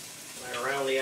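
Chicken frying in olive oil in a pan for a cabbage stir-fry, giving a steady close sizzle that swells louder toward the end, with no talk over it.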